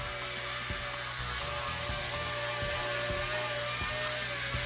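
A small model helicopter whines steadily with a rapid mechanical clatter and regular rotor ticks, a constant buzzing drone throughout, no voices.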